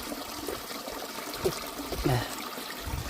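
Water pours in a steady splashing stream, close by, at a hidden tourist spot in the Kathiri hills forest, swelling slightly midway as the flow gurgles and trickles.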